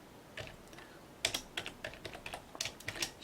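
Keys tapped on a computer keyboard in quiet, irregular bursts of clicks, with a few louder strokes near the start and a brief pause between flurries.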